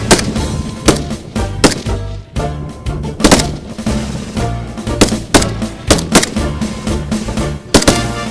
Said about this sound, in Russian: Именно поэтому еженедельно на горе Полковник проходит стрельба, на которых и проверяется меткость пограничников.